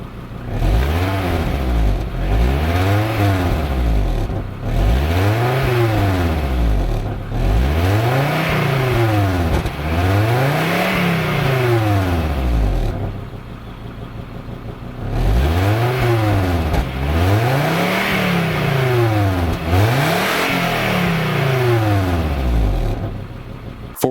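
A 1994 Acura Vigor GS's G25A 2.5-liter inline five repeatedly revs toward its 6,800 RPM redline, about eight loud rising-and-falling blips in a row, with a short lull at idle partway through.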